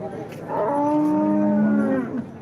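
A cow at a busy livestock market lets out one long, loud, drawn-out moo close by, with faint crowd noise behind it.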